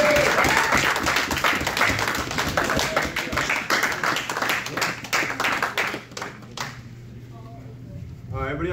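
A Muay Thai class claps together, a quick dense run of hand claps with a voice calling over it, then the clapping fades out around six seconds and talk takes over.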